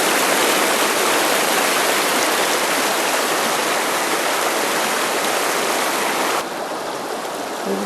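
Water rushing steadily into a stream's plunge pool on the Middle Branch, a loud, close, continuous broadband roar of a small waterfall that softens slightly near the end.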